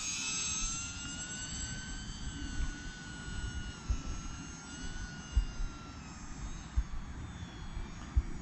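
An E-Flite UMX Cirrus SR22T small radio-controlled airplane flies overhead outdoors, its thin electric motor whine droning steadily at moderate distance, faint against light wind and a few soft thumps.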